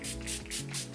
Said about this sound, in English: For setting spray, I'm going to be using the Farsali Rose Gold Skin Mist.